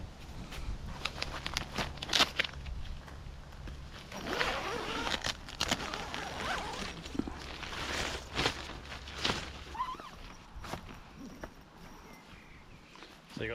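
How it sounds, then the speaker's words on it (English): A budget supermarket tent's zipper is pulled open in woodland, several scratchy zipping runs close to the microphone amid rustling fabric and faint birdsong, with no talk. "So you got 2 zips, one go down the side and then one along the bottom"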